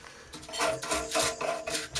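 Threads of a Titanium 27-inch immersion heater being cleaned of limescale before PTFE tape is wrapped, a series of four or five short rasping scrubs in a steady back-and-forth rhythm, close and fairly quiet.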